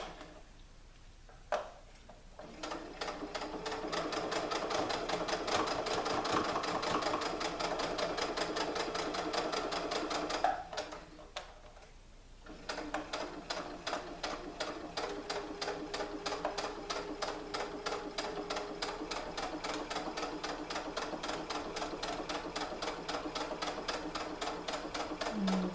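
Home sewing machine stitching recycled stretch leggings into leg warmers, running in steady rapid bursts of needle clatter with two brief pauses, close and fairly loud with no talking.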